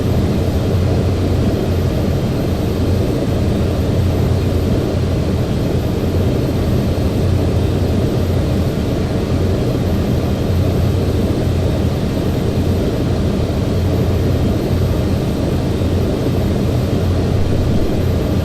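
A Boeing 737-800 takes off from Glasgow International Airport in Flight Simulator X. A loud, steady, low jet-engine roar runs unbroken for the whole stretch, with no voices over it.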